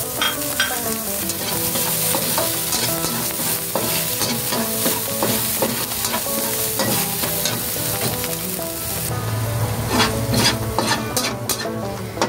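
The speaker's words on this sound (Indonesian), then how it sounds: "Lalu kita masukkan bawang putih sama jahe ya." Garlic and ginger stir-fry in a wok for a vegetarian dumpling filling, producing a loud continuous sizzle with constant stirring and scraping throughout, no voices.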